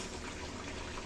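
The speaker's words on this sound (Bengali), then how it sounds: "এরপর যা এসে আমি ওখানে নারকেলের দুধ দিয়ে দিচ্ছি" Thick coconut milk is poured into a cooking pan, a brief, soft, steady liquid gushing hiss that stays even from start to finish.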